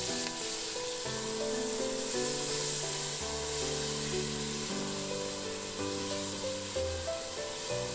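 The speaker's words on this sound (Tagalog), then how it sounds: "Lutuin lang natin mabuti yung luya hanggang sa talagang maglabas siya ng aroma." Ginger sautéing in a pot as the base for beef pares soup gives a steady, soft sizzle that runs throughout, under a background of sustained music and no speech.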